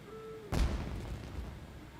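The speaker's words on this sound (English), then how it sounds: "It sounded like fireworks." Fireworks burst in the Genshin Impact video game, one sudden boom followed by a rumbling, crackling tail that fades out, alone with no talk.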